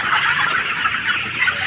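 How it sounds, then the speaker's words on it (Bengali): A crowded poultry farm housing about 1,200 chickens gives off close, continuous overlapping clucking from many birds, with no talking. "এখানে প্রায় মুরগি আছে 1200"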